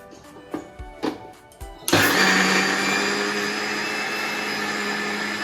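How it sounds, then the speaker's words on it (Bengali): A mixer grinder blends soaked rice and coconut with water into a paste, starting after a few light knocks and then whirring loudly and steadily to the end, close by. "চাল আর নারকেলটাকে আমি মিক্সারে দিয়ে দিয়েছি এখন জল দিয়ে দিচ্ছি"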